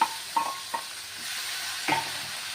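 Onion and tomato frying in a pan for borugulu upma, a soft steady sizzle broken by a few brief spoon knocks and stirs close by.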